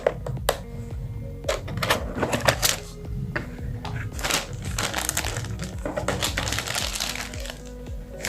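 Packaging for a Prodot keyboard is opened close up, with continuous crinkling, crackling and tearing plus scattered sharp clicks and knocks at moderate loudness.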